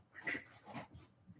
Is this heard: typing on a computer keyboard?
no